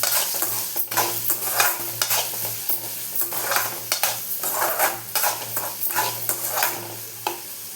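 Onions frying in a pan for a spinach and egg stir-fry, stirred repeatedly with a utensil that scrapes and knocks against the metal in an irregular rhythm over a steady close sizzle and a low hum, no voices.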